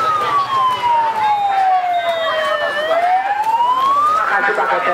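An ambulance siren wails loudly and close by during a community fun walk, sweeping down and then rising again in a long continuous tone, with traffic rumble beneath.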